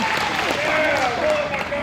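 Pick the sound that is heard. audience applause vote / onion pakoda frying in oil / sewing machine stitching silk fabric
audience applause vote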